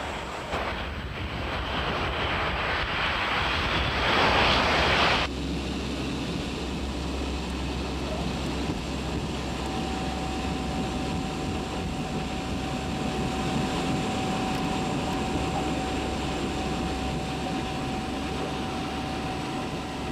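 C-130 Hercules transport aircraft engines giving a steady, loud turboprop drone with a broad roar and a faint sustained tone, continuous throughout.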